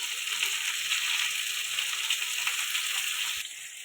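Potatoes fry in a pan with green chilli and salt, producing a soft, steady sizzle at moderate distance that drops slightly in level near the end, with no talking.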